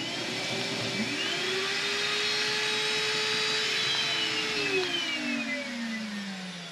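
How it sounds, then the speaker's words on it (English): Vacuum cleaners in a mobile car-detailing trailer run at a steady, loud roar throughout, switched on by remote, with a droning motor whine that shifts slightly in pitch toward the end. "Kick my vacuums on."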